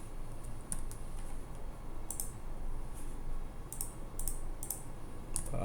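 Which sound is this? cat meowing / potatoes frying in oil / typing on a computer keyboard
typing on a computer keyboard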